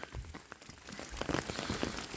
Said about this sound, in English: it's been a torrential downpour up here for the last 2 days.